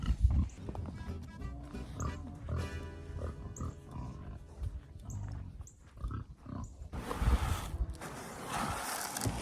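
Pigs grunt and snort on a homestead during frigid polar vortex weather, with irregular close grunts scattered through a background of music.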